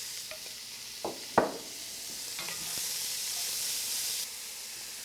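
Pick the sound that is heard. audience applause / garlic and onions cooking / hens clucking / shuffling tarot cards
garlic and onions cooking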